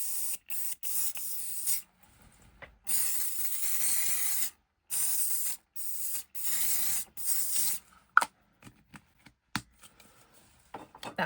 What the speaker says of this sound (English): what I might try is some spray and sparkle